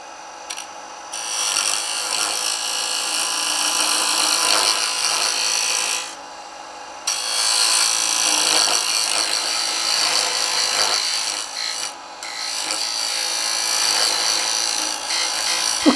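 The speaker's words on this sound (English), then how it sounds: "Now we'll move over and cut a tenon on the other side" A wooden tenon being cut on a lathe while turning a small box, a loud continuous scraping hiss of the tool against spinning wood, broken by a few short pauses and then resuming at the same steady level.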